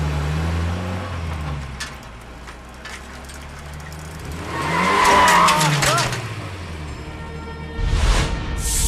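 A car engine starts and the vehicle drives off in a Tamil movie scene, the engine rising and falling with a squealing swell midway, mixed with voices and other film sound.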